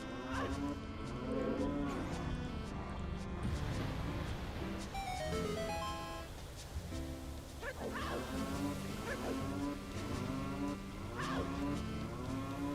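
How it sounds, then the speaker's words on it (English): A cow moos underwater in a Majora's Mask randomizer game, several long, wavering moos rising clearly over the game's music, with no talk. "Underwater cow is just a strange thing to hear."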